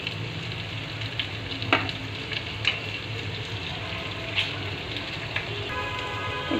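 Chopped garlic and ginger frying in a pan, a steady close hiss of sizzling oil with scattered light clicks from a spoon and a few brief louder crackles.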